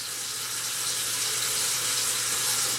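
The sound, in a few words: water running from a sink faucet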